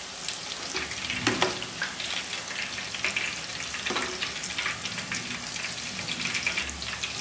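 Soya chunks crisping in hot oil on a medium flame keep up a continuous crackling sizzle, broken by scattered spatter pops and the scrape of stirring, heard close with no voices.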